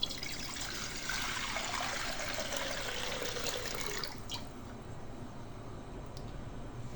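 Water is poured into a clean wok (kadhai) in a home kitchen, a continuous close splashing stream for about four seconds that then thins to a quieter trickle.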